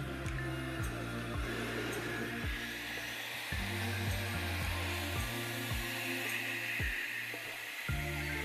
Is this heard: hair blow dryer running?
yes